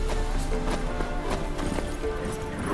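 Roach, the horse in Witcher 3, gallops with steady rhythmic hoof clatter under a busy bed of game music and town ambience, the hooves close and continuous throughout.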